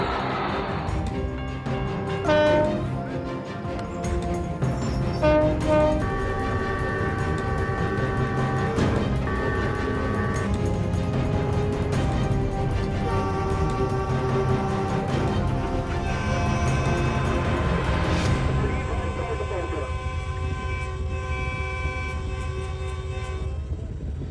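A train rushes along the tracks, its horn sounding over a steady, loud rumble of wheels and cars that continues throughout; no distinct impact stands out.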